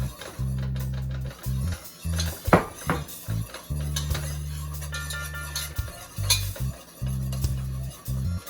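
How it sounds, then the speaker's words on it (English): A pale flour-and-butter roux cooks in a pot for mac and cheese, with a steady low bubbling sizzle under repeated spoon scrapes and clinks against the pot sides, close and fairly loud. "once all the flour mixture is in the pot, you're gonna let that cook for 2 to 3 minutes"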